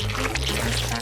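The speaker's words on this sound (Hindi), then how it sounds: "कॉकटेल को ग्लास में डालेंगे" A green healthy cocktail made from blended green ingredients pours steadily into a glass, a continuous close liquid gush lasting about a second under a faint musical bed.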